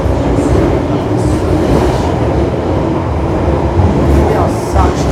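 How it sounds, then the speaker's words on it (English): A London Underground train rumbles past near Holborn, a loud, steady low roar with rail noise that fills the whole stretch, faint voices barely audible beneath it. "Let's just wait until the train passes."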